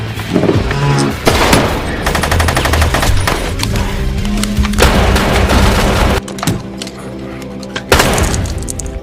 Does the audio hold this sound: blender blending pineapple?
no